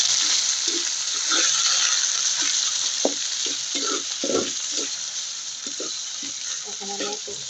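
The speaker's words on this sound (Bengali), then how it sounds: "এখন আমি চিংড়ি মাছগুলো দিয়ে দিই।" Prawns hit fried onions in a hot pan, setting off a loud, steady sizzle with repeated scraping and stirring clatter from a spoon throughout, heard close up with no speech.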